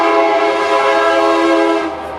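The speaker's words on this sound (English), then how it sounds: "Why does the train always come through right when I'm standing here?" Loud, sustained train horn blaring as a train passes near a garden, a steady chord holding for about two seconds before fading.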